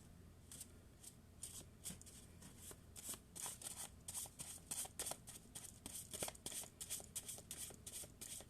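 Tarot cards are pulled and shuffled close up, giving soft, quick riffling and papery flicks in irregular bursts that grow busier partway through, with no talking.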